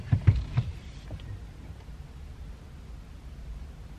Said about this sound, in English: I've got the engine on